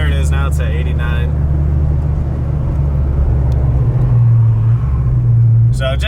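A Dodge Hellcat's engine drones low and steady from inside while it is driven around on a warm day, with brief talk at the start and near the end.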